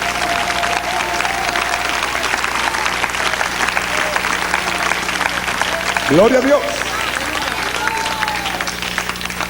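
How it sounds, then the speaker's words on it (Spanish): A church congregation gives sustained applause, a loud, dense clapping that holds steady throughout while a preacher calls out briefly over it. "Dale un aplauso al Rey."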